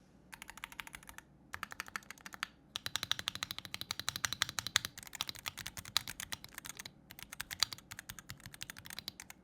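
Rapid, crisp clicking of a friction-mounted mechanical keyboard being typed on in bursts, with brief pauses between runs of keystrokes, close and clear.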